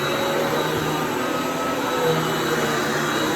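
A Riccar upright vacuum cleaner runs steadily and close, its motor producing an unbroken, loud whirring drone with a high whine on top, with no talking throughout.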